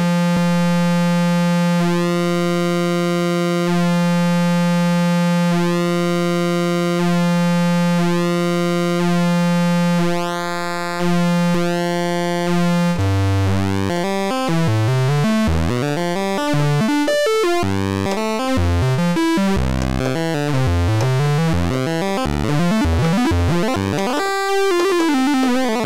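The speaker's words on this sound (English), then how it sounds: "Let's try the square wave." An ARP 2600 synthesizer drones with square-wave cycling pulse width modulation, pulsing rhythmically for several seconds, then breaks into a busy, warbling sequence of rapidly shifting, sweeping tones, loud and alone.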